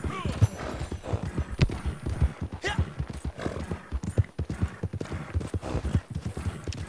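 Horse hooves clip-clop in Red Dead Redemption 2, a steady rhythmic trot close by, with a brief whinny and people talking over the gameplay throughout.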